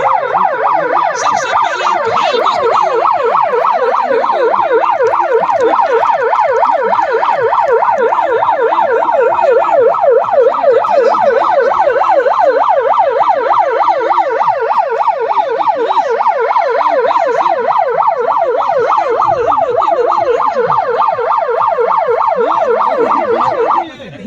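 A loud ambulance siren wails continuously in a fast, repeating up-and-down pattern, close and unbroken for over twenty seconds, during a police riot drill.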